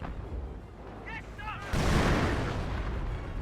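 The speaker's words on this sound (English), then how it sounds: "More artillery running on in. Or was that a Goliath? That may have been a Goliath there. Nope, that's a Stu firing away." Stuka zu Fuss rocket artillery firing in Company of Heroes, a sudden loud roaring burst that starts partway through and sustains as a dense rushing blast, preceded by quieter battle ambience with brief whistling tones.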